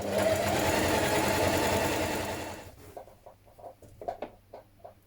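A sewing machine runs in a steady fast whirring burst while stay stitching near the edge of fabric for dungarees. It then stops, followed by quieter rustling and light handling clicks.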